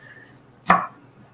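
A single sharp knife chop strikes a cutting board while garlic is minced for chickpea tikka masala, one close, crisp knock in near silence.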